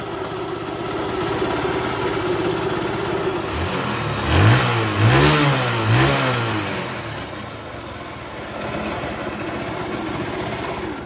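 An idling motorcycle engine, newly converted from fuel injection to a carburetor, rises close by into three quick revs in a row, then settles back to a steady idle.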